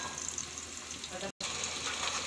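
Ground masala paste frying in hot oil with browned onions for a homemade spiced brinjal curry, giving a steady close sizzle throughout, broken by one brief moment of silence.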